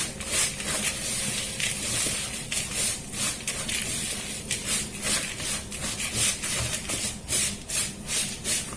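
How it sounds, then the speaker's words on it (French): Granola is stirred together with egg white in a bowl, giving a close, rhythmic scraping and rustling of dry oats and clusters with repeated strokes throughout. "Maintenant, je vais rajouter mon blanc d'œuf. Et on va mélanger."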